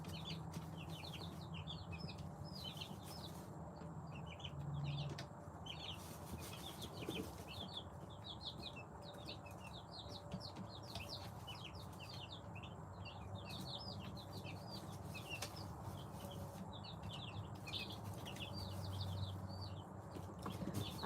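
Turkeys and chicks in a farmyard, a soft flock chatter of repeated clucks and chirps running steadily throughout, moderately distant over low background rumble, with no talking.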